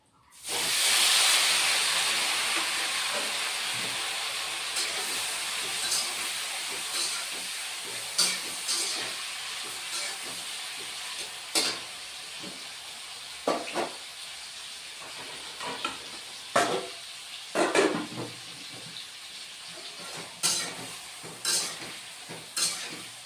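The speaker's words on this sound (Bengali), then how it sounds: "বেগুনটাও ভেজে নিব" Brinjal fries in a pan with a continuous hissing sizzle. Sharp stirring scrapes come at irregular intervals throughout, and no one speaks.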